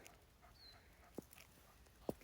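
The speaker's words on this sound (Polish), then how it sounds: "O, tu mój pies." A dog on a rural building plot beside an access road gives two short yelps about a second apart. Both are faint and distant over quiet outdoor background.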